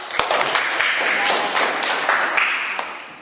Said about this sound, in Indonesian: kita beri penghargaan berupa tepuk tangan anak-anak